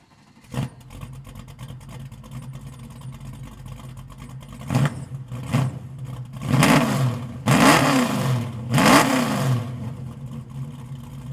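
A restomod 1983 Chevrolet C10 truck engine starts, then revs in several loud, separate bursts that rise and fall before the truck pulls away, with no talk over it.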